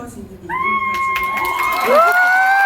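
A cinema audience at a Megabox COEX guest-visit screening of Crime City 3 cheers with sustained, loud whooping voices over a busy crowd din, close and continuous throughout.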